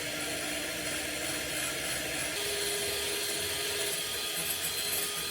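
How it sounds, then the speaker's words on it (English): Caster sugar and egg mixture warmed to 55 degrees being whisked toward ribbon stage, likely by an electric mixer, producing a loud, continuous whirring drone with a steady rubbing texture and no talking. "We're going to whisk it to ribbon stage."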